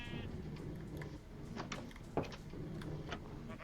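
Sheep in a video game bleating softly a few times, faint and close amid light clicks and game sounds.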